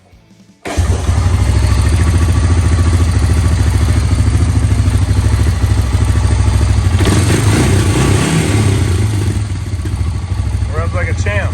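A 1990s Honda Fourtrax ATV engine starts and settles into a loud, steady, close-up running rhythm with mechanical clatter, with a voice speaking briefly near the end.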